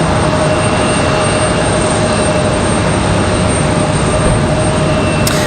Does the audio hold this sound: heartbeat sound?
no